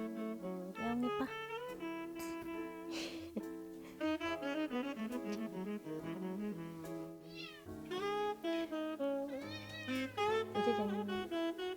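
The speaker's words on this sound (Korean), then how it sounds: "야옹이 봐." A twelve-year-old house cat meows repeatedly, a string of clear, close, drawn-out cries with short pauses between them, loud and alone.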